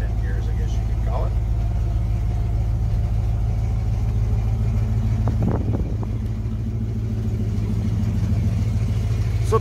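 The engine of a 1975 Ford F750 fire truck with a 5-speed splitter transmission runs steadily, a constant low rumbling idle heard up close, with a short rattling clatter near the middle.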